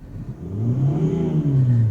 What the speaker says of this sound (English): I'm going to snap the throttle.